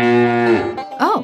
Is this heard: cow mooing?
yes